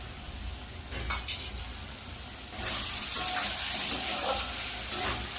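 Masala with peas and green chilies fries in a pan for masala paneer. A faint, quiet start gives way to a broad sizzle that swells partway through, with soft stirring scrapes.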